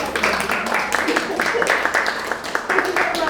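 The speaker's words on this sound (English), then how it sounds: "Round of applause for Sarah." An audience at a library literary event in Gillingham gives a round of applause, with a steady patter of many hands clapping while voices talk over it.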